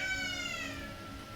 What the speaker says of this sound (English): I'm sorry if you can hear my nephew crying